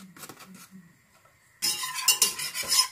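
Butter and flour stirred into a roux in a pan, with a quiet stretch of faint clinks giving way to a louder scraping, sizzling stir with utensil knocks.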